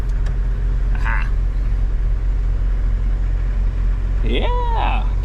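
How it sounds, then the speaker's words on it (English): A cold 1995 Jeep Wrangler engine idles with a steady low rumble in an enclosed space, while brief squeaking and whistling sounds rise over it late on. "Yeah, see, the engine's still cold, but this is a pretty slick Jeep."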